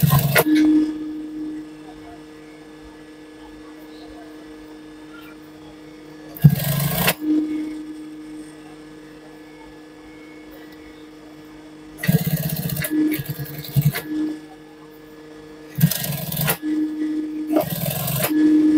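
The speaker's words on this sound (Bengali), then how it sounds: "আমরা এটা উপরের সাইডে মানে সদর সাইডে পাকা সেলাই করে কিন্তু এই হ্যামটি তৈরি করব" A sewing machine runs a firm topstitch along a pants hem in several short bursts, each a steady mechanical whir lasting about a second, set apart by long quiet stretches of faint hum.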